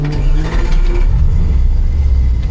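A V8 engine swapped into a BMW E92 drift build starts up and revs, a loud, steady low rumble filling the whole moment up close with no talking over it.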